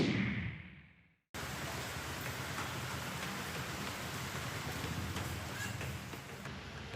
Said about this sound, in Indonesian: Hujan deras yang mengguyur Tangerang Selatan sejak Senin siang